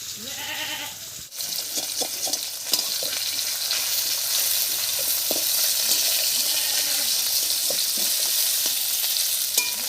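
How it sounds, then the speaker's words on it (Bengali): Rohu fish fries in oil with a steady, dense sizzle that runs throughout, nearby and fairly loud, broken by scattered clinks of a utensil and some faint background sounds. "মাছটা এদিকে ভাজা হয়ে গেছে এবার নামিয়ে দিচ্ছি"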